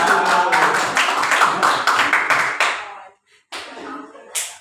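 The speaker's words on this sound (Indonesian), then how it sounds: "Tepuk tangan." A classroom of students claps hands together in a loud, rhythmic burst lasting about three seconds, then stops abruptly, followed by a brief pause and a few scattered sounds.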